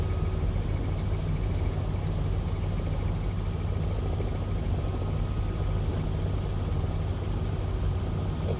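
A Robinson R66 helicopter by CowanSim flying in Microsoft Flight Simulator 2024 gives off a steady, unbroken rotor and turbine drone at an even, fairly loud level throughout.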